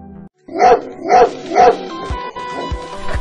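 An Armant dog barks three loud, close woofs at an even pace, then a softer whimpering and yipping sound continues with some background noise.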